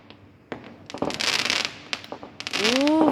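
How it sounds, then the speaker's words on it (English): Fireworks go off outdoors in a quick string of sharp bangs and crackling bursts, one rising whistle near the end, loud and close with brief gaps between pops. "That is the biggest firework."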